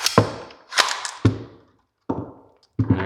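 Metallic clacks from the bolt of a Winchester Model 1911 shotgun being drawn back and charged, about five sharp, close knocks spread unevenly with short quiet gaps, no talking.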